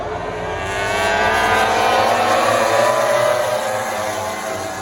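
MotoGP racing motorcycles screaming past at the Mandalika circuit, a high-pitched engine roar rising and fading as the bikes sweep by at a distance, heard from trackside.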